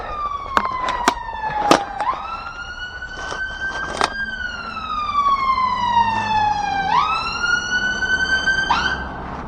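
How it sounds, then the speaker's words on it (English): An ambulance siren in Birmingham wails loud and close, its pitch sweeping down and back up in long cycles, with a few sharp clicks near the start. "ambulances are extremely annoying"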